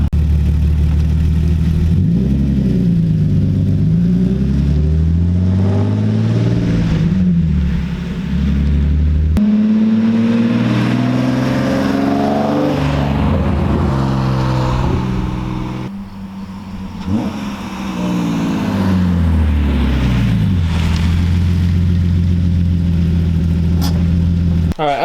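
A BMW E36 M3 engine drones steadily while driving, with rising and falling pitch as it accelerates and shifts through gears, loud and continuous throughout.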